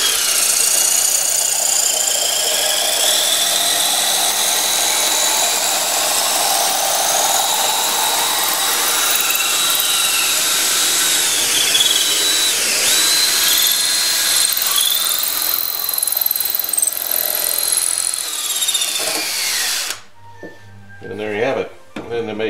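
A power drill whirs steadily for about twenty seconds with a high, grinding spin as a wooden table peg turns against a cutter, then stops abruptly, followed by brief clatter.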